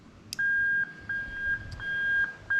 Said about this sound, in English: And you can hear straight away, there's a little buzzer.